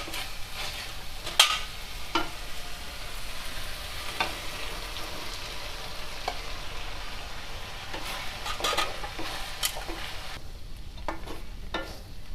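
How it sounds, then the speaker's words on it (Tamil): Fried idli is stirred into chilli sauce in a hot pan, with a constant close sizzle of frying and scattered scraping clinks of a spatula against the pan. "இப்போ வந்து வறுத்து வச்ச இட்லியை இதோட மிக்ஸ் பண்ணிக்கலாம்."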